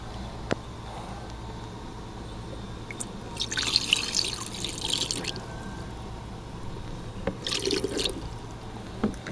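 Water runs into a Kratky hydroponic lettuce container fitted with net cups, giving close, gentle trickling and dripping with two brighter bursts of pouring. No one speaks.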